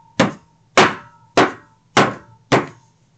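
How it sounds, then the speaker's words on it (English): A glued stack of notebook pages is rapped spine-down on a desk five times in a steady rhythm, each a loud, close, dull wooden thwack with a quick decay, with no voices. "Take it and tap it on my desk again"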